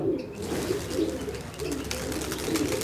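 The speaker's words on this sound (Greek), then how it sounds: "Και θεαματικά περιστέρια είναι εκείνα εκεί που τα ακροβατικά που λέω" Tumbler pigeons coo in repeated low, throaty bursts about every half second to a second. The cooing comes from a flock close by, over a steady outdoor background, with no talking.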